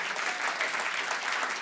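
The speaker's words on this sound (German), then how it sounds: "Einmal klatschen, bitte." Audience applause at a comedy show in Berlin: a steady, even wash of clapping from a crowd that holds at a constant level for the whole brief moment.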